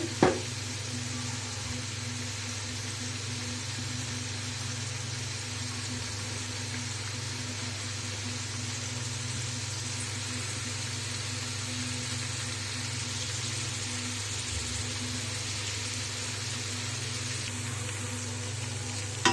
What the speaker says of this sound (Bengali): প্রথমে আমি পেঁয়াজটাকে ভেজে নিচ্ছি